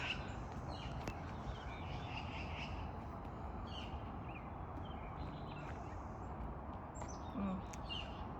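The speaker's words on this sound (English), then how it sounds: "you can hear all the birds. Magpies, blue jays" Birds calling and chirping outdoors on a summer day, including magpies and blue jays, scattered faint calls over a steady broadband background hiss.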